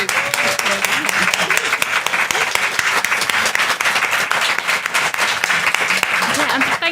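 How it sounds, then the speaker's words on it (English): Live audience at a Westminster event breaks into a loud round of applause, dense clapping mixed with cheers and voices from the crowd throughout. "Can we give them another round of applause?"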